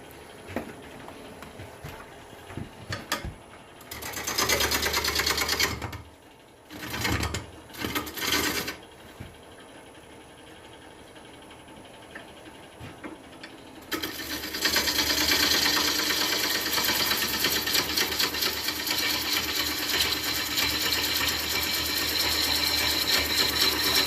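A woodturning lathe trues up the face of a green wood piece with bursts of rough, scraping cutting noise over a low motor hum, starting and stopping early on, then becoming a long, steady loud cut.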